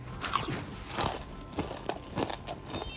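Crispy fried chili coated in salted egg is bitten and chewed up close, with sharp crunches at a regular pace over about three seconds and no talking.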